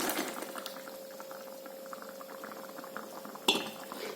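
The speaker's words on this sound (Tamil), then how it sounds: "இது நல்லா கொதிச்சு வரட்டும்" Okra tamarind curry (vendakkai puli kuzhambu) with coconut milk bubbling in a pot, a soft continuous simmer with small pops and one sharp clink near the end, close and without speech.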